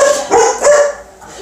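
Several dogs barking excitedly at the mailman arriving at a house, a few loud, close barks in quick bursts with brief yips between them.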